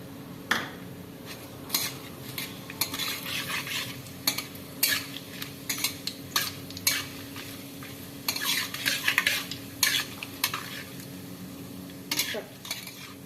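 Whole garam masala and bay leaves fry in mustard oil in a pan, a low steady sizzle broken by irregular metallic clinks and scrapes of a spoon stirring against the pan.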